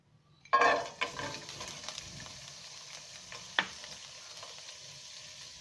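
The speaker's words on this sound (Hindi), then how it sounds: "सबसे पहले पैन में डालेंगे थोड़ा सा घी" A small amount of ghee heats in a pan for halwa, starting with a sharp sizzle as it hits the hot surface, then a faint steady frying hiss with a few soft clinks of a spoon.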